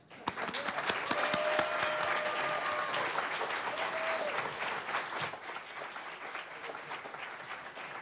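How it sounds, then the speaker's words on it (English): An audience at a journalism awards ceremony breaks into warm applause, a dense burst of many clapping hands that swells quickly and then slowly thins out, with a few sharp individual claps standing out near the start. "at least we can give you a warm round of applause"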